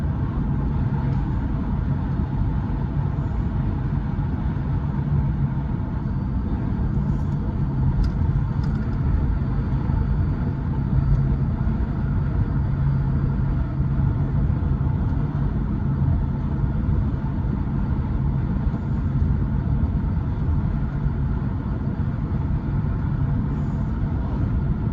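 A Cadillac Fifth Avenue, riding soft and floaty, cruises down the road with a steady low engine and road rumble, a continuous even drone and no voices over it.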